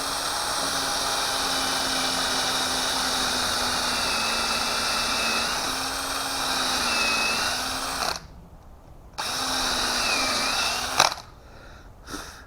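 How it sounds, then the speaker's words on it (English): A power drill runs steadily, boring about an inch deep into a wooden bowl blank for a woodworm screw, a loud continuous whine with slight pitch wobbles, cutting out briefly twice near the end. "I only need to drill about 1 inch deep, maybe 1 1/4 inches"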